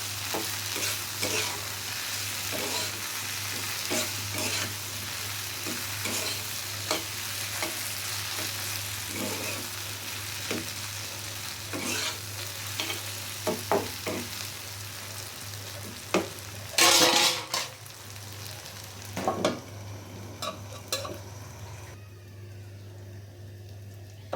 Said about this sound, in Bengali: ভাজিটা হয়তো ভেন্ডি ভাজি আস্তে আস্তে হতে হয়।